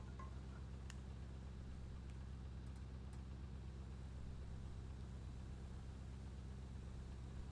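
A cave elevator descending in the horror game Gloomwood produces a continuous low mechanical rumble and hum, steady and quiet, with a few faint clicks early on and no speech.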